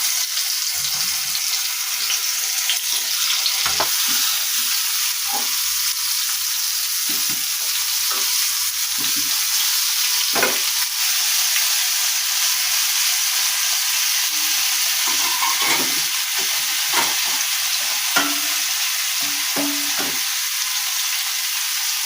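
Pumpkin slices coated in turmeric and salt fry in hot oil, a loud, even, close sizzle that holds throughout, with scattered soft pops and light clinks beneath it.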